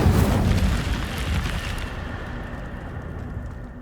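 An Incendio fire spell is cast in Hogwarts Legacy, a loud whooshing burst of flame with a booming onset that fades into a rumbling tail; no one speaks.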